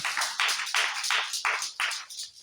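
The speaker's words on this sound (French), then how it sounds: "Applaudis pour le Seigneur." Congregation claps for the Lord in a series of loud rhythmic bursts, each several hands striking together in a near, punchy pulse with brief gaps between.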